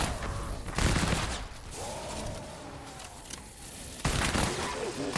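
An eight-barreled Bundlebuss assault rifle fires in Fortnite, heavy bursts with mechanical clanks and reload rattles between them, loud and close amid game noise.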